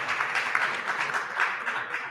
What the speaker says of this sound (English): Big applause for Rabbi Yehuda Kaplun.